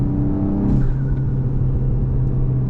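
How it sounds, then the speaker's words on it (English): A tuned Mk8 VW GTI with a drop-in air filter, diverter valve spacer and E85 tune, making 300+ hp, gives a loud, steady, close engine rumble as it revs, with no talking. "That's what you get the turbo flutters from."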